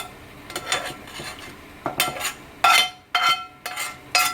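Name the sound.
adding seared celery, garlic and onions to a slow cooker pot roast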